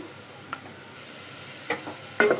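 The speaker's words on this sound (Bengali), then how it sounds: "হাঁড়িতে দিয়ে দিলাম পেঁয়াজ আর তেল" Faint, steady sizzle of onions frying in oil, broken by a few scraping stirs of a spoon against the pot.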